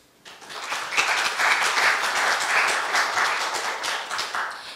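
Audience applause after a university health lecture on prostate cancer, a full hall clapping steadily for several seconds at moderate volume before it slowly tapers.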